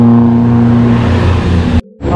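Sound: car engine straining up a steep climb

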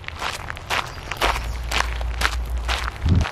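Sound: footsteps on rocks

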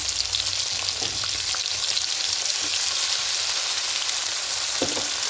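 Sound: frying in pan

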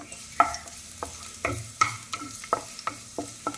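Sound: garlic roasting in a pan with roasted moth beans

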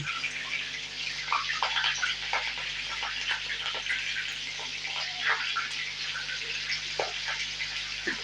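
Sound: green chillies frying in oil

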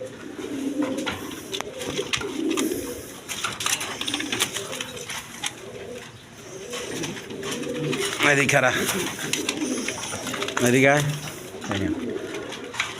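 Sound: pigeons cooing

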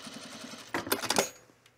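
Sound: sewing machine stitching puffer vest collar seam

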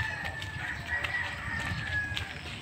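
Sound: chickens at a chicken coop

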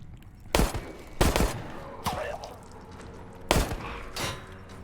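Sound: security camera turret shooting in the video game Resident Evil

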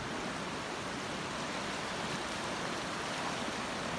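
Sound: rushing river water after heavy rain

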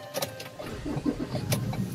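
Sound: Ford Ranger Wildtrak 3.2 pickup engine starting

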